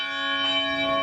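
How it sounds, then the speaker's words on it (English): The church bells of Our Lady of Lourdes in Slidell ring out in a single sustained, bright metallic tone with rich overtones, heard alone and fairly loud. "The sound from the Slidell Church, a symbol of God's power"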